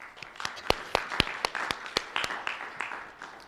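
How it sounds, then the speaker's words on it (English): A conference audience applauds after a talk on formal reasoning about WebAssembly, a short burst of sharp, fairly sparse claps that thins out over a few seconds. "we just applauded you"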